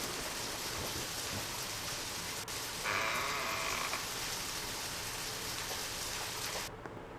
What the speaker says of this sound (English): the rain sounds weren't there